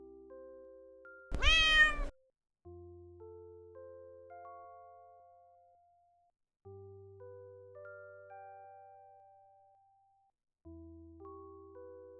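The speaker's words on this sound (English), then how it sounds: "Cat says meow." A cat gives one clear, drawn-out meow close by, set against a bouncy children's melody that carries on before and after, in a toddler counting song about farm animals.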